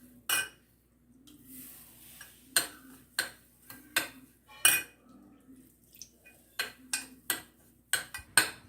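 Roat dough is mixed with warm milk in a bowl, with a string of sharp, close clinks and scrapes of a spoon against the vessel coming in irregular bursts over quiet gaps; no talking.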